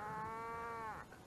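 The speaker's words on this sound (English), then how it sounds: "I was just over there by that tree with that family of cows." A cow moos once, a single long, steady call lasting about a second that bends at the end, heard in open countryside on a hill in North Dorset, moderately close and without any talking.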